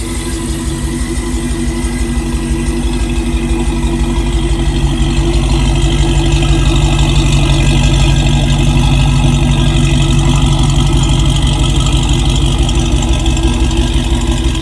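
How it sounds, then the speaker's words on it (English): A car running on a replacement 302 engine idles loudly up close, a steady throbbing rumble with even pulsing that grows slightly louder midway. "here she is, idling perfect, taking her out for a drive."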